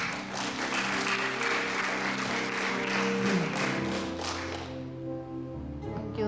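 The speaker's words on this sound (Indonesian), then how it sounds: "Tepuk tangan bagi Tuhan." Loud, sustained applause from a church congregation, dense clapping filling the first few seconds before fading, with music tones lingering underneath.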